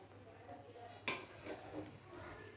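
A spoon clinks sharply against a bowl once, then scrapes and taps softly a few more times while baking soda and salt are mixed, faint and close with no talking.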